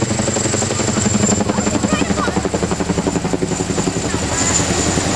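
Military helicopters depart en masse at Rotorfest 2010, a loud rotor thump and turbine whine filling the air steadily and close, with a high engine tone holding throughout.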